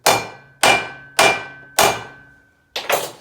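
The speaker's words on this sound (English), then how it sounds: "let me put the socket back in here and just give her a tap or two" A hammer taps a socket to seat a U-joint on a multi-piece drive shaft of a Ford Crown Victoria. Four evenly spaced, ringing metallic clangs are followed by a quick double tap, all close and loud with no talking.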